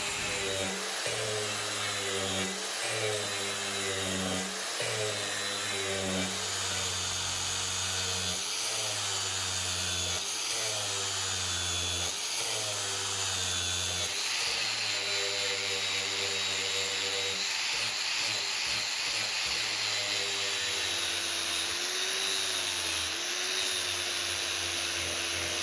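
A steady high-pitched power tool whine with pulsing, rhythmic grinding that shifts pitch midway, polishing a cast brass karambit blade continuously at close range without any voices.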